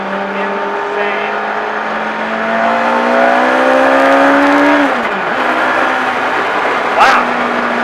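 A modified 170 hp Honda S600 engine revs hard and loud, its pitch climbing steadily before dropping off and rising again, heard from inside the car with speech present.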